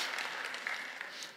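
Light, scattered audience applause in a church service, a steady patter of clapping from a modest crowd at moderate distance, fading slightly at the end.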